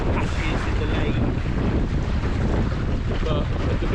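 Strong, steady wind buffets the microphone while sailing a dinghy on Lake Bala, with a broad roar of gusts and rushing water filling the clip continuously, loud and close.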